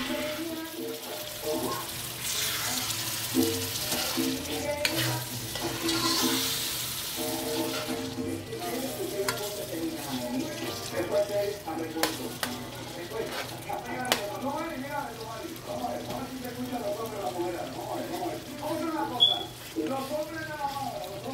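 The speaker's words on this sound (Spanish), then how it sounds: "Dejar que se sofría un poquito para luego echarle los 2 potes de gandules." Sofrito sizzles steadily in a pan while it is stirred and fried for a Christmas dinner. The crackling, watery frying runs throughout under a person talking.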